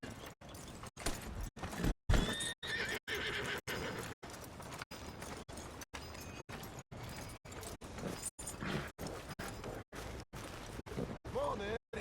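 In the Red Dead Redemption video game, a horse neighs while its hooves clop steadily. Voices talk over it, and the sound keeps cutting out in brief dropouts.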